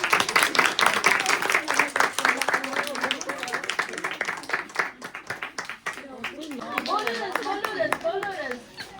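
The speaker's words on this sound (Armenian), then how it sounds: "Ծափահարենք։" An audience applauds during a book-festival performance, with a dense ripple of hand claps at the start that thins while voices speak over it, then rises again near the end.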